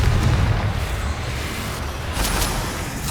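A Confringo blasting spell goes off in Hogwarts Legacy, a loud, steady booming explosion rumble with a swell of crackling bursts later on, and no talking.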